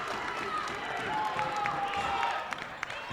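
A basketball arena crowd cheers and applauds after a slam dunk in a men's college game against Southeast Arkansas College, a sustained roar with a commentator's voice over it and a few sharp bounces near the end.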